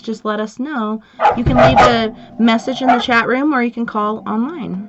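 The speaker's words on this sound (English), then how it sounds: "I have a pack of wild dogs outside my window at this point." Several wild dogs bark outside a window, sharp repeated yips and barks sounding throughout under steady talk in a room.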